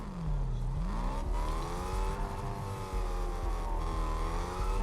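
A car driving in Fortnite, its engine a steady harmonic drone with rising and falling pitch as it accelerates, loud and continuous throughout with no talk over it.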